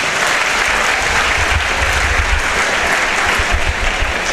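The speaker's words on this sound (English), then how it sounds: "give a big hand of applause as we welcome Director John Cully" A school competition audience gives a loud, dense round of applause welcoming Director John Cully, many hands clapping close and continuously with crowd rumble beneath and no speech.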